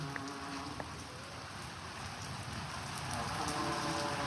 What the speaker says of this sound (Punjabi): ਅੱਜ ਕਿਰਪਾ ਹੋਈ ਬਾਬੇ ਦੀ ਬਾਈ ਤਾਂ ਮੀਂਹ ਪਿਆ ਏ